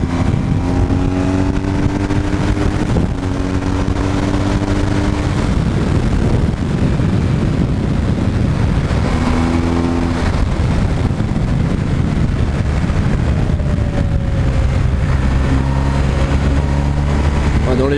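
A BMW R 1250 GS motorcycle pulls in fifth gear on the road, its engine droning and swelling through several rising pulls under heavy wind rush, with the rider talking throughout.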